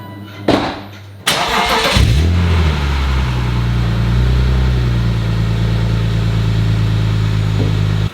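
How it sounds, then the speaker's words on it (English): Cold start of a 2000 BMW M Roadster: starter whirr, the engine catching with a loud flare of revs, then settling into a steady, deep idle, close and unaccompanied by speech. "let's get a cold start up on the BMW"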